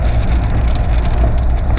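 Steady, heavy rain pours down nearby in a dense, continuous hiss and patter that does not let up.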